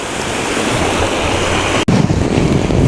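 Sea waves wash against the seaside promenade at Bang Pu, Samut Prakan, a steady broadband surf roar mixed with heavy wind buffeting the microphone, loud and continuous with one brief dropout.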